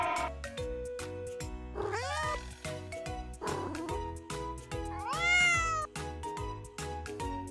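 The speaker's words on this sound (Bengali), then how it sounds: "C for cat" A cat meows repeatedly over a bouncy children's phonics song, several drawn-out mews rising and falling in pitch, clear and prominent above the music.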